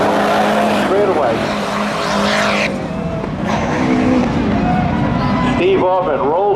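Drag race cars, including a Jeep Cherokee, launch and roar down the strip at a Memorial Day spectator drags event, loud continuous engine noise with a brief tire squeal, while an announcer talks over it.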